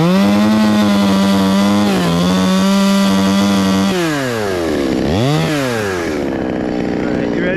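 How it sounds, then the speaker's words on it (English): A chainsaw cuts into very hard ironwood, its engine droning loud and close at a steady pitch before bogging down and revving back up in sharp swoops as the chain bites. "We'll probably need a chainsaw."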